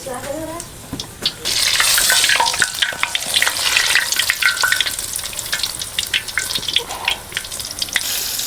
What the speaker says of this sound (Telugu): సో దోస్తులు ఇప్పుడైతే మనం ఈ మిర్చిని పిండిలో ముంచుకొని నూనెలో అయితే వేసుకుందాం.